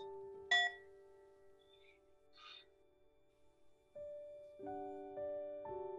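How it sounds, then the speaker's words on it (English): A bell struck softly rings with a sustained, pure tone that lingers, then several more gentle chimes sound near the end in a quiet room. "With the ringing of this bell"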